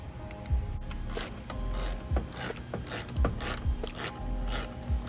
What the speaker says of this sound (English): Taking the bolts out.